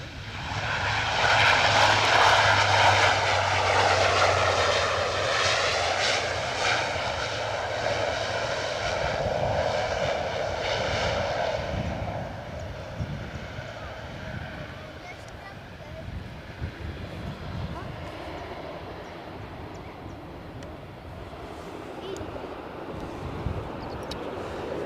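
Jet airliner engines at Edinburgh Airport roar loudly at first, then ease into a softer, steady distant rumble, with wind buffeting the microphone throughout.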